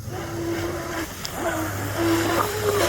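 A Proboat Jetstream RC jet boat runs on water with a steady high-pitched motor whine that rises and falls in pitch, over a constant low hum and water noise.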